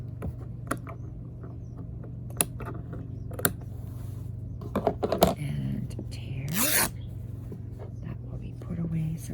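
Base fabric tears into strips with a drawn-out ripping burst near the middle, alongside scattered sharp clicks and scrapes over a steady low hum.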